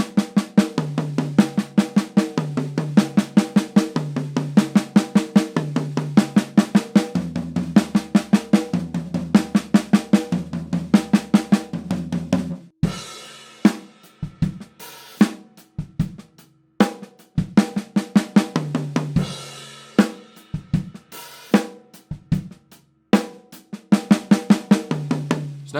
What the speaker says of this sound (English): let me show you me playing 5 notes on the snare drum and exploring the other 3 on different sounds